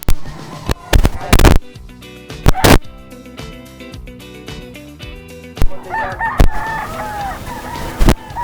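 A White Kelso gamefowl rooster at a pet market crows loudly and near, its long call rising over sharp clucks, bangs and cage clatter, with other birds calling in the background.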